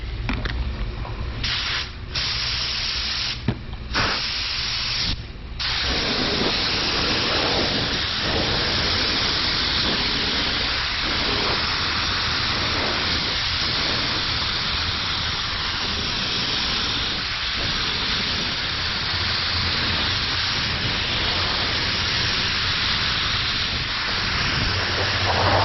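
Spray gun laying another coat of matte car paint on a BMW, a steady loud hiss that runs almost unbroken, with a few brief pauses early on, no talk.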